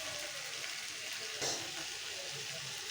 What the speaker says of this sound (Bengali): আমি এভাবে আর কিছুক্ষণ ভেজে নেব।